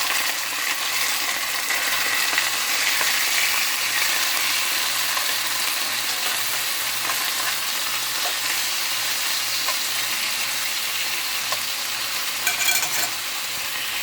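Chicken tenders fry in a cast iron skillet with a dense, steady sizzle and hiss that holds at an even level, close and unbroken, with faint clicks scattered through.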